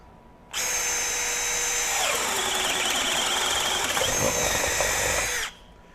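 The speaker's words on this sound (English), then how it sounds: "In speed 2, driving through with that 1-inch self-feed auger." A Milwaukee M12 FUEL Gen 3 hammer drill in speed 2 bores a 1-inch self-feed auger bit through 2x lumber, a loud, steady whirring grind that runs about five seconds and then cuts off, with no talking.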